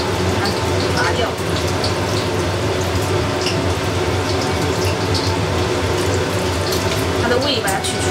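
Tap water runs steadily into a sink as small squid are rinsed clean of ink, a loud continuous splashing rush lasting throughout with faint handling sounds.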